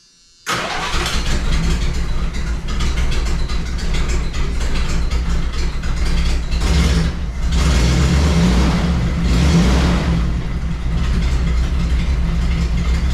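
1987 Dodge D100 pickup with ignition timing issues: the engine cranks and catches almost instantly, then settles into a loud, steady, rough idle heard up close for over twelve seconds, with no talk.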